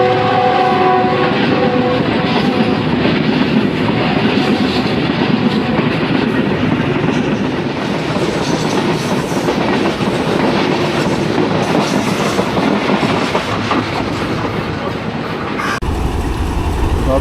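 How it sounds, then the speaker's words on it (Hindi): A special train running from Khanpur to Rohri: the horn sounds loudly at the start, then steady rumbling and clatter of the cars on the rails carry on close by. "तो अब चलने वाली है बस ट्रेन हमारी यहाँ से।"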